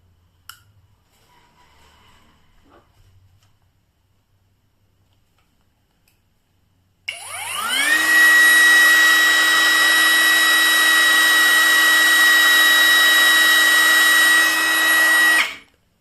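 A BULL brushless hair trimmer switched on at speed 3, giving a steady high-pitched electric whine that starts abruptly after a quiet stretch, holds constant and loud for about eight seconds, then cuts off.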